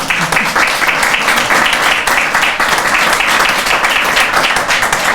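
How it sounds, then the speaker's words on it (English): Sustained audience applause fills an award ceremony honoring human rights work, dense and steady clapping from a large crowd throughout, loud and close with no break. "the reason we're all applauding James"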